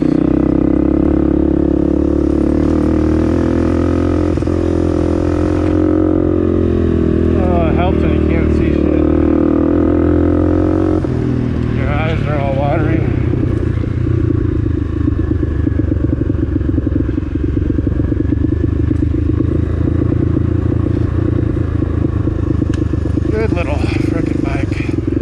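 A small Honda motorcycle engine runs steadily at close range, a loud continuous low drone that shifts in pitch partway through, with someone talking over it.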